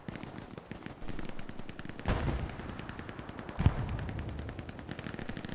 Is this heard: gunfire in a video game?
yes